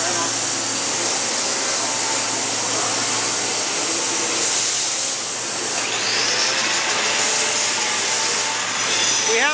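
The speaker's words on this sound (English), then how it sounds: "You're gonna grind these knots off here" A grinder removes weld knots from steel in a college welding shop, a steady loud abrasive whine running continuously with a slight pitch shift partway through, and people talk over it.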